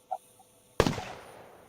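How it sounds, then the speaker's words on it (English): A single sharp gunshot sound effect, a loud bang with a brief decaying tail after a faint click, otherwise quiet. "Love the gunshot."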